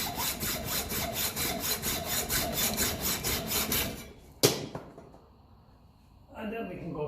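Hand saw cutting off a steel brake rod on a 1954 Ferguson TEF 20 diesel tractor, a close rhythmic rasping of quick even strokes for about four seconds, a sharp clank, then quiet and a brief scrape.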